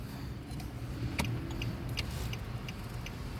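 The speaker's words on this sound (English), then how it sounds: "And put on my blinker." A car's turn signal blinker ticks in steady, evenly spaced clicks inside a moving car, faint under a constant engine and road rumble.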